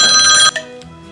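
A phone ringtone rings loud and close for about half a second, then cuts off abruptly, leaving only a faint fading tail.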